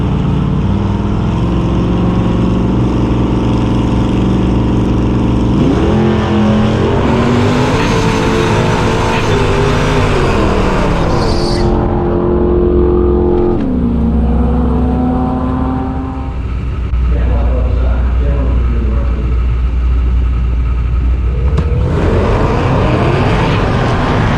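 A cammed, ProCharger-boosted 5.7 Hemi car roars down a drag strip against a Cadillac, loud and close, with rising engine pitch through several gear changes, then a brief dip and a return to hard acceleration.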